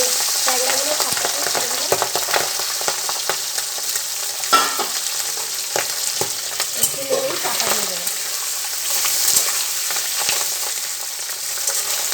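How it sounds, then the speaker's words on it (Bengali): Tengra catfish frying in hot oil for a Bengali oil-based tengra curry, a steady close crackling sizzle with sharp pops and spatters throughout, a voice briefly murmuring underneath. "তেল ট্যাংরা করার জন্য ট্যাংরা মাছ প্রথমে ভেজে নিতে হবে"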